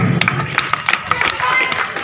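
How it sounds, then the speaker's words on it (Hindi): Loud clapping from a crowd honouring a guest at a memorial blood donation camp, a short burst of overlapping handclaps with a few sharp individual claps and faint voices mixed in. "जोरदार तालियां बजाएं"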